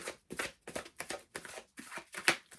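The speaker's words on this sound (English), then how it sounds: "let's go ahead and get into the shuffle" Tarot cards shuffled by hand in a steady series of crisp riffling bursts, each about a quarter second long, close and moderately loud with short pauses between them.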